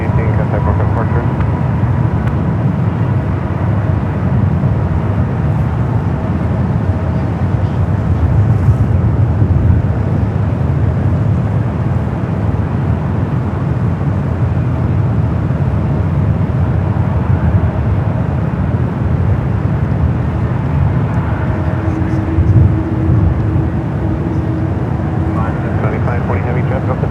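A Boeing 747-400 freighter takes off from runway 28 right at San Francisco airport, its engines a loud, steady, broad roar that fills the whole stretch. Faint voices and radio chatter sit underneath.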